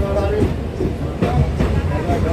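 Rumble and rattle inside a passenger train running between Kolkata and Mayapur, a steady low drone close by with faint voices mixed in.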